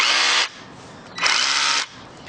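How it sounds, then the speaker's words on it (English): A cordless two-mode rotary hammer drill with a side handle runs in two loud bursts, each about half a second to a second long, separated by a quiet pause. "It's a 2-mode, so it's going to do rotary drilling and rotary hammer."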